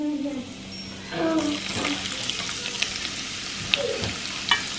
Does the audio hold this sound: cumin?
yes